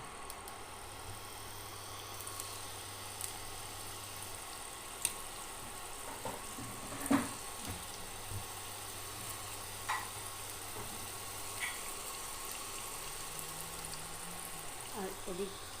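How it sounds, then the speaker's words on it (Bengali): Paneer frying in a little refined oil in a frying pan gives a steady, soft sizzle throughout, with a faint low hum underneath and a few small clicks and taps. "পনিরটা একটু ব্রাউন করে ভেজে নেব।"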